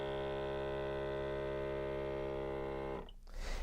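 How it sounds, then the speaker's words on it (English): A vacuum pump on an AirVac setup for setting a cast shape hums loudly and steadily for about three seconds, then cuts off abruptly. "So I'm just going to hit that vacuum pump again for a second or two."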